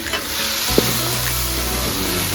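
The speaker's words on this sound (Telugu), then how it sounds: "మంచి ఫ్రై అయ్యి టమాటాలు వేసుకున్నాను." Chopped tomatoes frying in a hot pan with mint and curry leaves for Telangana-style chicken curry, a steady close sizzle with a brief stir clink, no talking.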